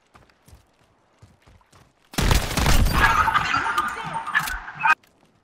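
A grenade launcher firing in a Modern Warfare beta match, heard as a sudden loud blast that swells into a sustained roaring, crackling rush for about three seconds before cutting off, after quiet faint ticks.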